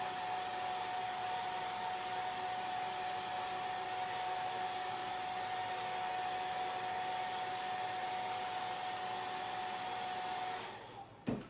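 A handheld hair dryer blows with a constant loud whirring hum and whine, running steadily before clicking off near the end, with no one speaking.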